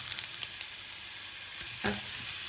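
Meat sears in hot oil, a steady close sizzle with faint stirring clicks and a brief louder crackle near the end, no voices.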